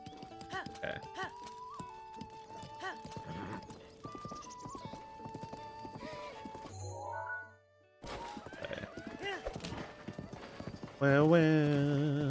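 Video game horse trotting with steady rhythmic clip-clop hoofbeats over game music, a short whinny, and a voice talking over part of it.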